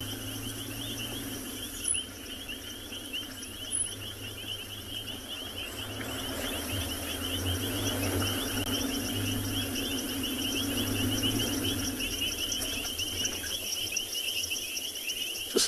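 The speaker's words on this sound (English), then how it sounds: "you can hear where we're driving now, the noise of all these frogs" Frogs call at night from a rain-filled pan in a South African safari reserve, a dense, continuous chorus of trilling and chirping heard at a moderate distance over the low rumble of a vehicle.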